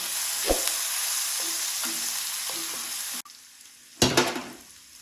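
Onions sizzle and fry in a pan as they brown, a steady hissing crackle with a few clinks of stirring and a louder burst of sizzling near the end.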